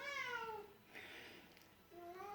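A cat meows twice, drawn-out and fairly faint, near a workshop where a 1958 MGA is being restored, with a short pause between the two calls.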